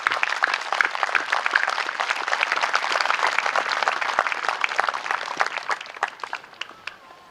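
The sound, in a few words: applause for veterans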